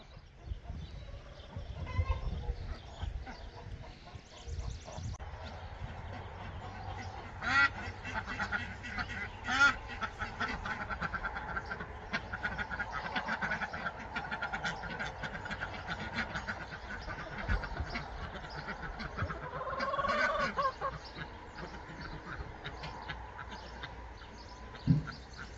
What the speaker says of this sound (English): My ducks.